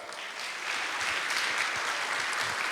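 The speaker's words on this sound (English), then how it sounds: "Please, a big applause to keep the enthusiasm going for Mr." A conference audience in Zagreb breaks into applause, a broad, sustained roar of many hands clapping that swells slightly after the first half second and holds steady until the end.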